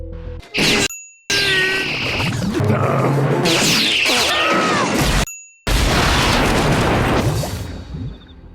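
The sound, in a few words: cartoon explosion from self-destruct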